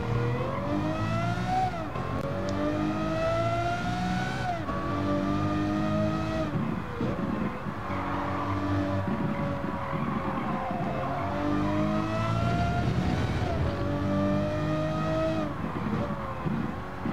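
A Lamborghini Murcielago LP 640 (2009) races flat out at Monza in a racing video game, its engine note loud and continuous, rising through the gears with repeated shift dips and occasional tire squeal.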